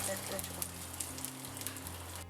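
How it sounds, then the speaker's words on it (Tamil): Handfuls of cashews and raisins fry in ghee in a pan, giving a steady, faint sizzle with soft crackling pops and a low background hum. "ஃபர்ஸ்ட் ஒரு கைப்பிடி அளவு கேஷ்நட்ஸ், அதே மாதிரி கைப்பிடி அளவு ரெய்சின்ஸை நெய்யில் நல்லா பொரிச்சு எடுத்துக்கொள்கிறேன்"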